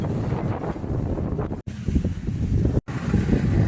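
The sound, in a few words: strong wind blowing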